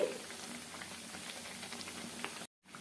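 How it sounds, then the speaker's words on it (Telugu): Lentil fritters (garelu) fry in oil on a medium flame, making a close, continuous bubbling sizzle with fine crackles that drops out briefly near the end. "ఇప్పుడు ఇంకొక వైపు తిప్పేసుకొని మీడియం ఫ్లేమ్లో 2 వైపులా మంచి గోల్డెన్ కలర్ వచ్చేంత వరకు ఫ్రై చేసేసుకోవాలి"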